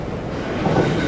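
A Kintetsu electric train runs on its rails with a steady rumble and faint wheel clatter, a continuous close roar heard alone.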